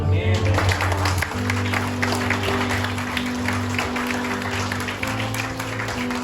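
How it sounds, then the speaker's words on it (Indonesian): A church congregation applauds at a Good Friday service, with steady clapping running the full length while sustained organ or keyboard chords hold underneath and a voice is briefly heard at the start. "tepuk tangan buat Tuhan"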